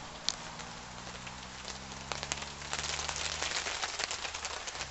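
A campfire burns quietly under a tarp, with soft scattered crackles and pops over a low, steady background that grows slightly busier toward the end. Rain may be falling at the same time.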